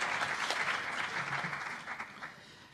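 Faint, brief burst of clapping from an audience at a European Parliament hearing, a soft patter of applause lasting a few seconds with no talk over it.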